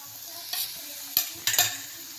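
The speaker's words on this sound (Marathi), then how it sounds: "आणि हे मी चांगलं तेलामध्ये परतून घेत आहे." Onion-garlic masala with red chili powder sizzles in oil while a spoon stirs it, giving a quiet continuous fry with three or four brief scraping strokes against the pan.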